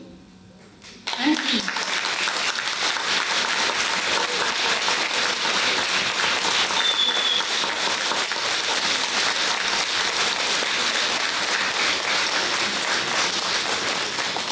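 A reunion audience of school graduates bursts into applause after a brief quiet opening, then keeps clapping steadily and loudly for the rest of the stretch.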